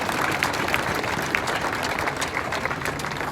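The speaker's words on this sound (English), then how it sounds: "give yourself a round of applause right now" Steady applause from a crowd, dense clapping throughout with no pauses, heard from within the audience.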